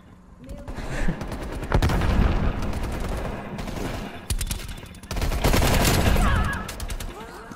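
Rapid automatic gunfire in the shooter game Call of Duty: Cold War, loud bursts of rattling shots in two heavy volleys with scattered single shots between them.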